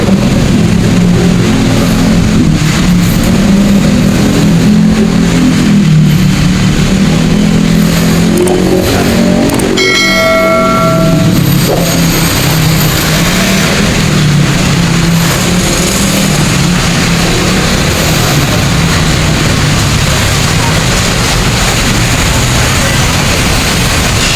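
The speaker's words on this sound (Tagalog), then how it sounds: "Medyo traffic ngayon." Heavy road traffic passes near a footbridge by Mega Mall, a loud continuous wash of car engines and tyre noise with occasional accelerating vehicles. A high whine rises briefly midway, and voices may be faintly present.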